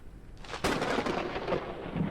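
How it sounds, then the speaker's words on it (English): A thunderstorm in the video game Forever Skies, with a sudden loud thunderclap crashing in and rumbling on over a steady wash of rain-like noise. "storms are actually kind of freaky here"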